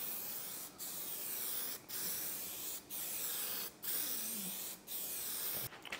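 Spray paint going on as a second coat in a DIY setup without a paint booth: steady close hissing bursts about a second long, separated by brief regular pauses, five or six passes in a row.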